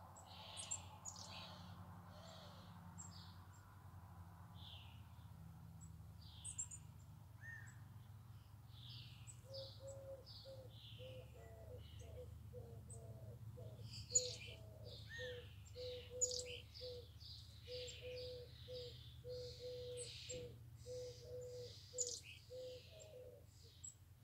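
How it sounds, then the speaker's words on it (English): Many birds chirp and tweet outdoors, soft scattered calls overlapping near and far over a low steady hum, with one bird repeating a thin sustained note partway through. "There's a lot of birds here"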